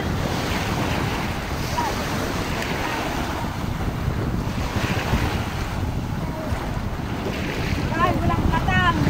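Sea waves rolling and breaking along the shore under strong wind buffeting the microphone, a loud continuous roar with faint voices in the background.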